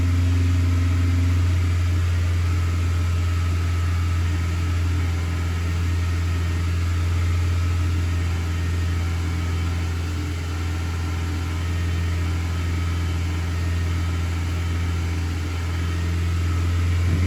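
Car engine running steadily after being restarted during EGR fault diagnosis, a constant low hum and drone with no talk, holding even for the whole stretch.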